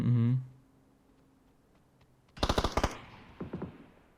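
A short burst of automatic rifle fire in the PUBG battle royale game rings out loudly, with about eight rapid shots fired, followed by a few fainter scattered shots. A brief voice is heard at the start.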